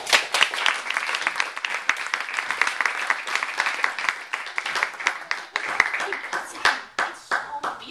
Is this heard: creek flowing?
no